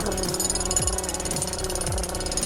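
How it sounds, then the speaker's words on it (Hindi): A jackhammer pounds in a rapid, continuous hammering rhythm, loud and close, with a harsh metallic rattle. "अब आजकल जब तक कि वो ड्रिलिंग की आवाज"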